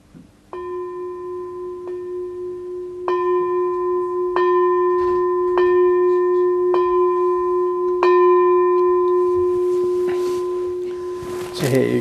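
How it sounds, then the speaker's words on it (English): A bell is struck about seven times at the close of a group session, each clear ringing strike leaving a sustained, overlapping tone that builds into a layered resonance before fading. "let's complete our session today by ringing the bell of invincibility"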